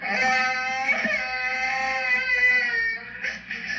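A voice imitates a baby crying, a sustained, wavering wail with a brief sobbing catch near the end, loud and close with no other talk.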